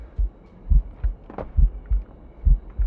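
A slowed, poisoned heartbeat in Assassin's Creed Rogue, a video game, thuds as deep, muffled double beats repeating at a sluggish, even pace, close and prominent.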